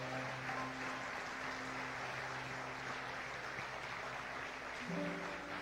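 Church congregation applauding during a Spanish-language sermon, a steady dense wash of clapping with a sustained organ or keyboard chord beneath, the chord shifting near the end.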